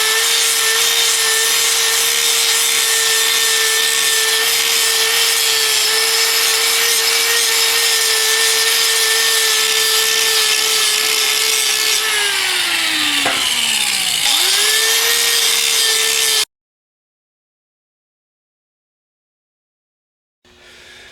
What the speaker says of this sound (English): So we're going to grind this lip off all the way around so that this can will come off